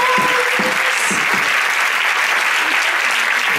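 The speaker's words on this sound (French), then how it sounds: "On les applaudit bien fort." Applause from a Paris preview-screening crowd during a Q&A with a film team, a full, steady burst of clapping that holds level for several seconds, briefly overlapping a voice at the start.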